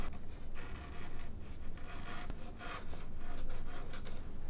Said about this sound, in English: Looks like I need to cut a little bit of a bevel on either side.